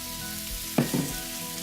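Red onion and red pepper frying in oil in a hot pan, a steady close sizzle with a couple of brief stirring knocks in the middle.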